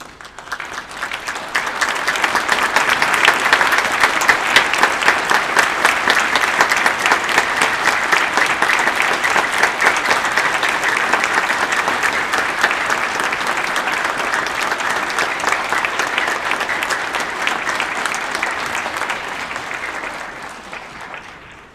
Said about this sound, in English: show our appreciation with a round of applause